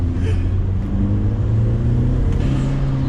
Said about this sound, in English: the more boost, the more turbo noises